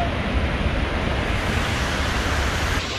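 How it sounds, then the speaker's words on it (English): Steady, dense roar of rushing water with no pauses, loud and close, from a waterfall in Iceland pouring down nearby. "Another wet waterfall."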